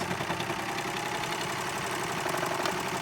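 A Baby Lock Celebrate serger runs continuously through bulky layered seams, giving a dense, even mechanical whir and rapid rattling hum that stays loud and steady throughout.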